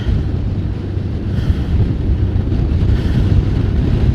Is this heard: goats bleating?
no